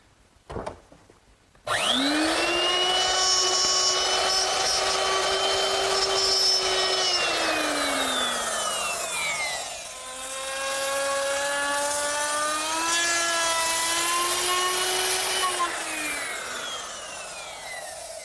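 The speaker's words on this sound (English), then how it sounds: "now I've put a 1/2 inch dovetailing bit in my router, and I'm going to make a little short pass at the bottom of this rabbet" A router fitted with a 1/2 inch dovetailing bit cutting a short pass along a rabbet in wood for a kitchen dresser: a loud, steady, high whine that starts abruptly, dips as the load changes mid-cut, then rises again and holds.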